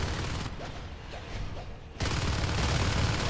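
Dense light machine gun fire rattles continuously in a Natural Selection 2 match, dipping briefly and then surging back louder and fuller.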